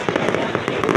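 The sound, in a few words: fireworks exploding at Rizal birthday celebration, Calamba City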